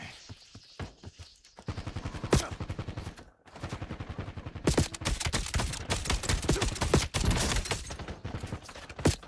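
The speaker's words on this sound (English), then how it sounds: "I've never shot a gun this hard to shoot." Heavy gunfire in a shooting video game, long automatic bursts of rapid, close shots broken by short pauses and a few louder single cracks, sustained over several seconds.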